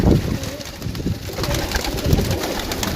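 Pigeons coo softly in low, rounded repeated calls, close by, over a faint background hum.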